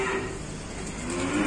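A Limousine cross cow lowing once at a cattle trader's yard, a single drawn-out moo heard fairly close over a low background hum.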